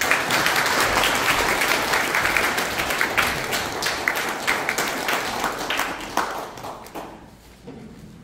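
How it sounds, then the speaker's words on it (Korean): Sustained audience applause fills a ceremony hall at a 2022 community social-security council evaluation and merit-award event in Pocheon; dense, steady clapping that gradually thins and fades toward the end. "회장님 앞으로 나오실 때 큰 박수 부탁드립니다"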